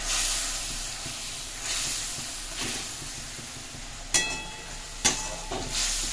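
Coriander leaves frying in a pan for a Korean-style tengra fish curry, giving a steady close hiss and sizzle with a couple of sharper crackles near the end.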